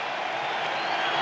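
A dense, steady roar of a cheering crowd at a Padres vs Cubs Wild Card baseball game, broadband and continuous with no breaks, filling the whole moment like a wall of noise.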